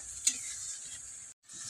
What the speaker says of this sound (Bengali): এখন আমি দিয়ে দিচ্ছি এতে কেটে রাখা আলু